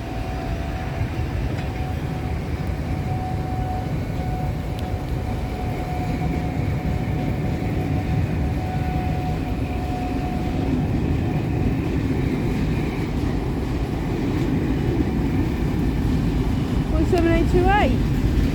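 A passing train top and tailed by Class 47 diesel locomotives, with an Intercity unit on the rear, rumbles steadily at close range throughout, a long tonal whine running underneath and a horn-like rising tone near the end.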